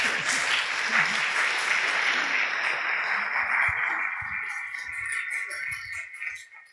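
Audience applause at a church pastoral gathering, dense steady clapping from a crowd that carries on for several seconds and then thins and fades toward the end.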